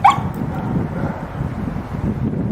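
A dog gives a brief, high yelp or whimper right as a leash correction snaps during obedience training, then a low, steady outdoor background noise carries on.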